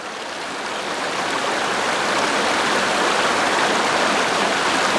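A mountain stream of clean, cold water, flowing as a steady, full rushing wash that swells slightly at the start and then holds even, close and alone.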